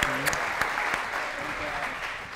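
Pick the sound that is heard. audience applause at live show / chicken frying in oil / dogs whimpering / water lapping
audience applause at live show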